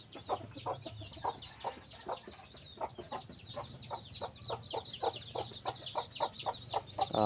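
Chickens cluck in a quick, steady series of short calls, close and continuous, with a soft background hum.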